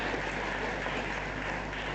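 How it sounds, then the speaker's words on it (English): A conference audience applauds a presenter at a university research and innovation event, a steady, even wash of many hands clapping that holds for the whole stretch without a break. "Please a round of applause for him again."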